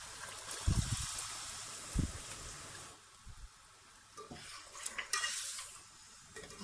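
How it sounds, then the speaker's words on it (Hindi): Nihari masala being sautéed with yogurt in a pot: a steady soft sizzle under repeated scraping and stirring knocks of a spoon against the pot, with a few louder clunks and no talking. "दही के साथ 2 से 4 मिनट तक इसको अच्छी तरह भून लेंगे।"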